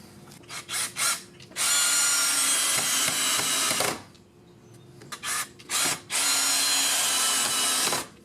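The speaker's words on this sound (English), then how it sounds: "So I'm just going to use 3-inch screws and connect those together." A power drill drives 3-inch screws into wooden ramp joists, with short trigger pulses followed by two long, loud whirring runs that stop with a brief pause between them, close up and without speech.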